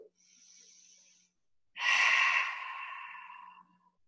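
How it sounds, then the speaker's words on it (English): Two breaths during a live-streamed power and flow yoga class: a soft, quiet inhale, a short pause, then a louder, airy exhale that gradually fades, close to the microphone. "taking a couple breaths here"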